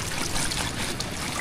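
Freshly washed cherry radishes in a basket shed water in a steady, close trickle and patter, a continuous wet hiss with no talking.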